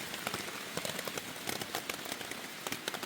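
Rain falls at a campsite on the Appalachian Trail in North Carolina, a soft, steady patter with scattered sharper drop taps against a quiet hiss.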